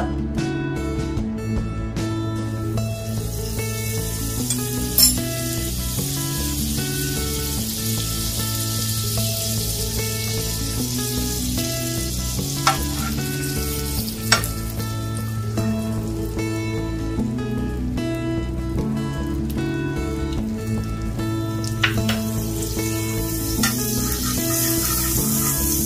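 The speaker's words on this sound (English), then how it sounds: "we're going to apply some butter on the pan and gently place the bread" Butter and bread sizzling in a hot frying pan over a low flame, a steady close crackling hiss throughout with a few sharper pops and ticks.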